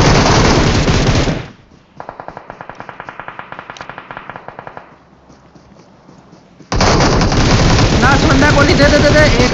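Automatic gunfire in the video game BGMI (Battlegrounds Mobile India) during a tournament match, a rapid burst of evenly spaced shots lasting about three seconds, set between stretches of loud, excited talk.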